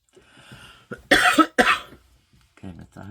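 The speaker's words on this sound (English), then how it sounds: "I hope I don't start doing that again. Coughing." A couple of sharp, harsh coughs burst out close by, set between stretches of quiet speech.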